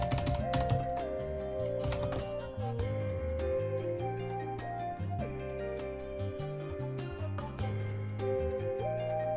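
Rapid clicks of typing on a computer keyboard sit under loud, steady game music with a melody, running throughout.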